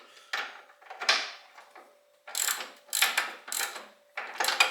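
A ratchet tightens bolts on the front end of a 1968 GTO during a rebuild, with bursts of quick close clicking separated by short pauses, about eight strokes in all.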